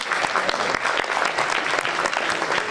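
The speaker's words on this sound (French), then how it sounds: "On va l'applaudir très fort" An audience at a film festival in Mantes claps loudly for an association president, with brisk, dense hand claps and some distinct sharp slaps in a lively, close burst.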